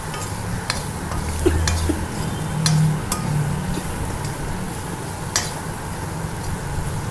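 Garlic kuzhambu masala sautéed in a pan: a soft, continuous sizzle with intermittent scraping and stirring strokes of a spoon against the metal, close by and without speech.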